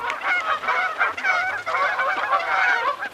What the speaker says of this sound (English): A sure sign of spring is the calls of Canada geese.